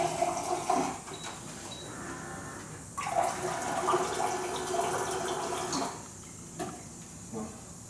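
Water runs from a tap while the pipe warms up, a steady broadband rush with brief pauses and shifts in flow, close and moderately loud, no talk over it.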